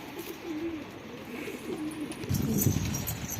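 Homing pigeons cooing at their coop, soft low throaty coos repeating close by, with faint chirps and rustling in the background.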